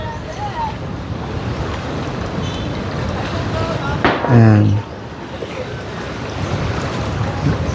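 Strong wind roars steadily across the microphone by the sea in Boracay, with surf underneath and a brief spoken word partway through.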